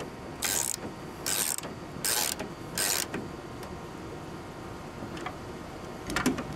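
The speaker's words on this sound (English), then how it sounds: "These are Gear Wrench's new style ratchet." A Gear Wrench ratchet is worked in four short bursts of rapid close clicking, each about a third of a second long, followed by a few fainter scattered ticks.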